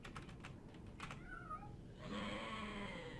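Cat meowing in the video game Daggerfall, heard as a faint wavering cry behind clicking and tapping, followed by a louder droning ambient tone.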